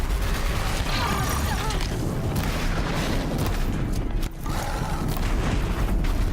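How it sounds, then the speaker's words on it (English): Grenades lobbed by a machine explode in a Horizon Zero Dawn: The Frozen Wilds battle, a dense, sustained roar of blasts and booming combat noise that stays loud and continuous throughout. "Lobbing grenades at us again."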